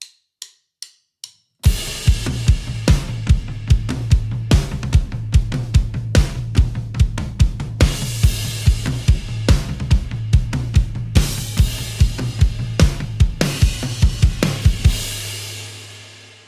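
Drum kit building through a song section after four count-in clicks, a dense steady groove of kick, snare and cymbal hits with frequent accents, played alone before a ringing cymbal decay.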